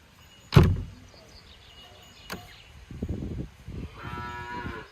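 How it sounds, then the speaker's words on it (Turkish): A door is pulled shut with a single loud, sharp bang, after which cattle in a village barn let out a drawn-out moo. "Şimdi kapıyı çekeyim arkadaşlar iyi bakın."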